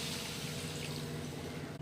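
Water pours into a cooking pan for vermicelli kichadi, making a steady, soft splashing rush close by that continues without a break.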